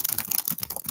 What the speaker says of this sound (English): I'll type something.